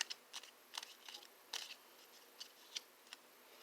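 Small playing cards shuffled slowly by hand, producing a handful of light, crisp riffling ticks and flicks spaced irregularly, close but very faint against a quiet background.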